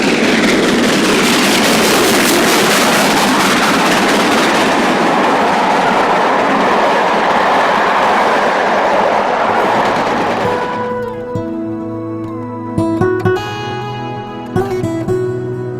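Steam locomotive Oliver Cromwell passing at Hatfield Peveril, a loud roaring rush of engine and rolling stock close by that sweeps past and fades, leaving quieter rail clanks and a ringing tone.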